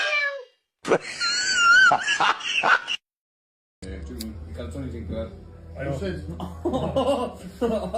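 A German shepherd dog whines and yelps in high, wavering cries, followed by people talking over a low background hum.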